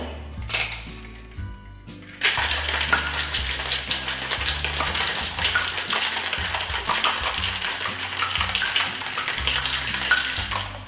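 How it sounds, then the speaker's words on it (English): Eggnog cocktail made with a whole egg, shaken over ice in a cocktail shaker: a continuous, loud, rapid rattle of ice against the shaker walls, starting after a few scattered knocks and running steadily to the end. "we can shake our eggnog cocktail"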